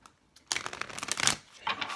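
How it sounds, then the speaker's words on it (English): Tarot cards are shuffled in a brief, close, soft riffling burst, followed by a short second flutter, quiet and with no talking. "And last shuffle"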